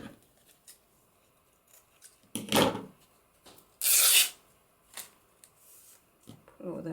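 Scissors snip through sari silk in a few short separate cuts, with one sharp crisp cut standing out and light rustling of fabric between them, close and fairly quiet.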